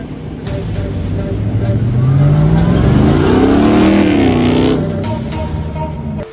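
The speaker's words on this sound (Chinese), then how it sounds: "它这款 Hemi 引擎呢，它是一个一个中型大小的引擎" A Dodge Challenger's mid-size Hemi engine revs loudly and close, its pitch climbing and then falling back through the middle of the burst over a steady running drone.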